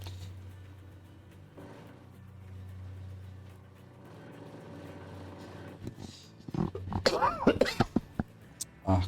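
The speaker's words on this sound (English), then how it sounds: "These coughs need to go away." A person coughs while playing a gold-mining game, with a short cluster of rough, harsh coughs and throat-clearing close to the mic near the end. A low engine-like drone hums underneath.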